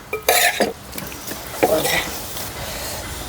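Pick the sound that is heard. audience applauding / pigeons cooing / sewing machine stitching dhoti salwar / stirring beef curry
stirring beef curry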